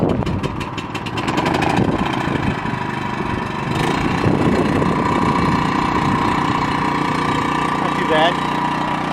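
A Wen 3100 portable generator runs just after starting on choke, a steady mid-pitched engine drone close by with some knocking texture and a few clicks, while people talk over it.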